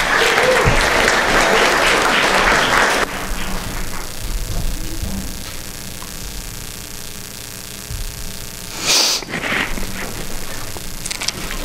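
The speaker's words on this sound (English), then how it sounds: "Let's give them a round of applause." A church audience breaks into loud, dense applause that fills the opening three seconds, then cuts to a quieter room with a low steady hum, brief shuffling and a short rustle near the end.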